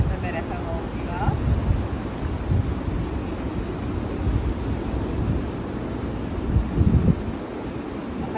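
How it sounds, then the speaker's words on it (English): Ocean waves and a steady sea breeze wash continuously at an outdoor coastal spot, with wind buffeting the microphone and occasional louder surges under a person talking. "I hope you're enjoying the sound of the waves and the breeze in the background"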